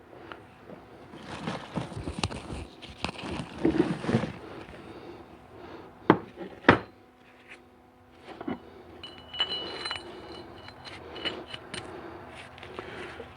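Metal clinks and light clanks as the chain and gears of a GM NP246 transfer case are set down into the case during a rebuild for a Silverado 1500HD, with scattered handling noise between the louder knocks.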